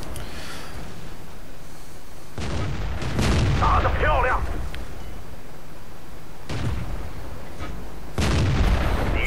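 A T-34-1 tank cannon fires on a Crusader in the World of Tanks video game, several heavy booms spaced seconds apart over a constant engine rumble, with a voice talking briefly between shots.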